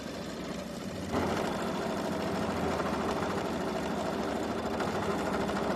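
An embroidery machine stitching out a programmed quilting design, a steady mechanical whir with a fast rhythmic needle chatter that steps up in loudness after a second and runs on evenly, close, with no talking.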